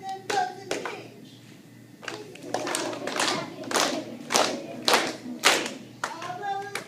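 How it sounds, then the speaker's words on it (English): Children clap their hands in a clapping game song, crisp bursts of claps and taps arriving in rhythmic groups with short pauses between, fairly close, with a few faint voices. "This is a song, it's a clapping game,"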